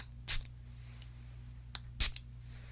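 Perfume spray bottle misting amber fragrance, two short hissing spritzes about two seconds apart, close and quiet against a soft background.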